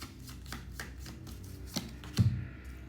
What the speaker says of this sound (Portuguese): Vamos tirar 2 cartas aqui para reflexão dessa questão.